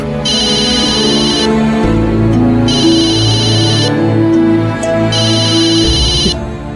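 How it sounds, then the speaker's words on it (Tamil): A mobile phone rings with a bright electronic ringtone in three evenly spaced bursts, loud and close, over a soft musical backing with no one talking. "அம்மா போன் அடிக்குது பாருமா."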